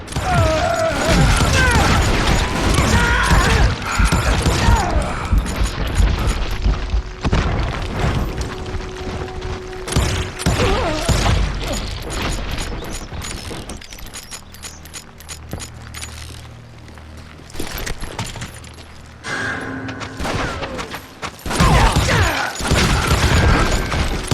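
Gunshots and booms in the Western shooter Call of Juarez: Gunslinger, repeated sharp blasts in clusters over game music and effects, loud and close, with a calmer stretch midway.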